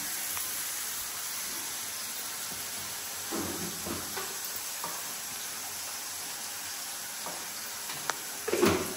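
Tomato masala frying in a hot kadhai for a Konkan-style home dish makes a continuous soft sizzle with faint stirring clinks and a brief utensil knock at the end, with no talking.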